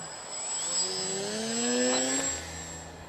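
A small radio-controlled model airplane flies through the air with a steady whining motor, its pitch sliding up and down as it passes at moderate distance, continuous throughout.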